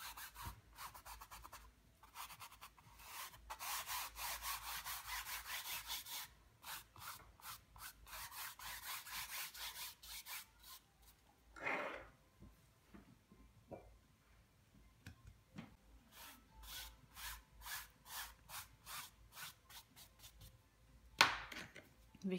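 A dry, larger paintbrush spreads acrylic paint across canvas in repeated scratchy, bristly strokes, quick dense bursts separated by pauses, close and fairly quiet with no talk.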